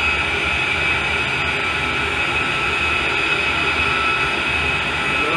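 An A-10C jet idling steadily as it taxis in the DCS flight simulator, a constant loud whine and roar with a high tonal hum, unbroken and close, no voices.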